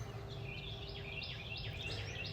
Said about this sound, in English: And every morning I come out here, I listen to these birds.